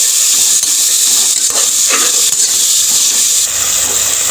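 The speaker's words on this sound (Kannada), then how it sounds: "ಈಗ ಮಶ್ರೂಮ್ ಚೆನ್ನಾಗಿ ಫ್ರೈ ಆಗಿದೆ" Mushrooms fry in oil with a loud, steady hissing sizzle that fills the whole stretch, with a few faint clicks and scrapes and no voices.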